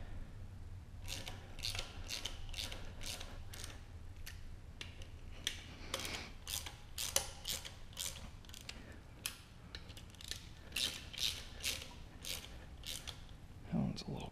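Repeated sharp ratcheting clicks from a wrench working bolts on a Porsche 944 during an LS engine swap, coming in quick bursts of a few clicks each over a low steady hum, with no one talking.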